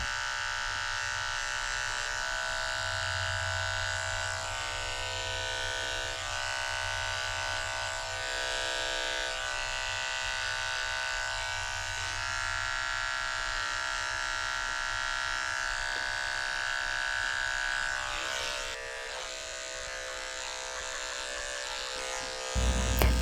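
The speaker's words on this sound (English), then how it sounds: "I'm going to go in with my 40 blade and shave out whatever crusty eye boogers he has left in the corners" An electric clipper fitted with a 40 blade shaving around a dog's face and eye corners, a steady close buzzing hum that runs continuously, shifting slightly in pitch as it moves.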